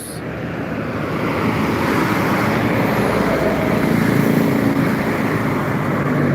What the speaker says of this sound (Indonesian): Ini live secara langsung di Jalan Lintas Timur Palembang, bus arah Pulau Jawa dan Sumatera, truk dan bus.